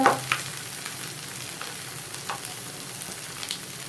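Fish frying in oil on a tawa over high heat, a steady soft sizzle with a few faint clinks and scrapes, close by and without talk.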